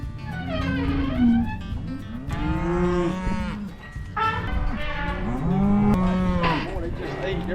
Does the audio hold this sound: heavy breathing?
no